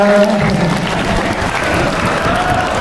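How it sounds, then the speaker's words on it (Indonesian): Audience at a Ramadan welcoming gathering breaks into loud, dense applause right after a chanted refrain, a steady wash of many hands clapping close by for nearly three seconds, with a faint voice briefly at the start. "Tepuk tangan buat teman-teman semua."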